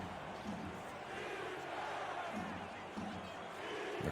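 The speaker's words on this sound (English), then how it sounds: "The crowd getting into it for Sioux Falls." A football stadium crowd cheers during a Sioux Falls home game, a steady broad roar sustained throughout at moderate distance, with faint voices underneath.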